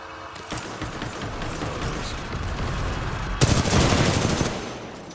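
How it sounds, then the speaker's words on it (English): Rapid automatic gunfire rattles toward the player in Titanfall 2, a continuous burst that swells into a louder, denser volley partway through before easing off. "Wondering what's shooting at me."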